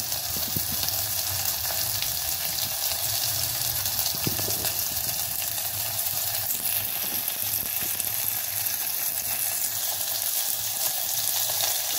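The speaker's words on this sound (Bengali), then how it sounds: "এটা একটু ব্রাউন করে ভেজে নিতে হবে" Onions and green chilies brown in a pressure cooker for a vegetable tehri, giving a loud, continuous hissing sizzle with occasional clicks and scrapes of stirring.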